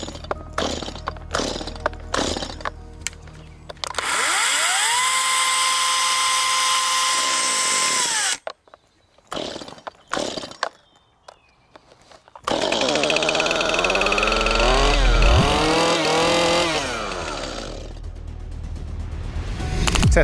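Greenworks 60V cordless 16-inch chainsaw starting up repeatedly, each start a sharp electric whine rising to a steady high buzz and spinning down, with clicks and pauses between runs, loud and close.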